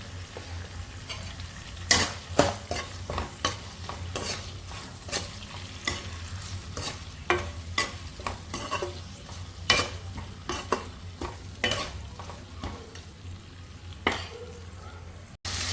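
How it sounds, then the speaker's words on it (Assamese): Chicken seasoned with salt and colour powder frying in a pan, a steady sizzle under repeated sharp scraping strokes of a spatula stirring at an irregular rhythm, close and fairly loud. "চিকেনখিনি ভাজি আছোঁ,"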